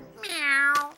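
A cartoon character's voice imitates a cat with one long, rising-then-falling meow, clear and close, followed by a brief breathy sound at the end.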